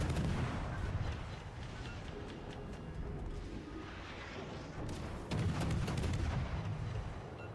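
Naval guns firing in the warship game World of Warships: Legends, heavy booming salvos under a constant rumble of sea and engine noise, moderately distant.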